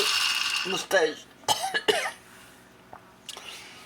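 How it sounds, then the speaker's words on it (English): A few sharp coughs burst out close by amid background noise, followed by quieter clicks and small movements. "Excuse me for the cough"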